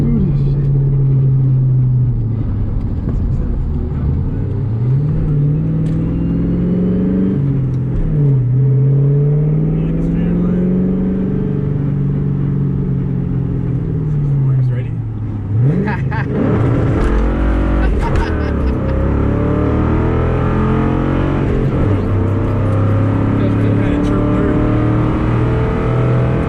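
A car fitted with new rear shocks doing two-step launches, its engine revving and bouncing off the limiter, then roaring hard under acceleration with loud rumbling and a sharp burst partway through, recorded up close.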